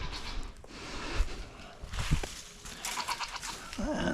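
Goats on a homestead farm bleat several times at feeding time against outdoor background noise, with a few sharper calls standing out near the end.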